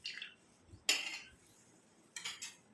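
A spoon mixes homemade hair oil ingredients in a bowl, making a few quiet, sharp metallic clinks and scrapes separated by near silence.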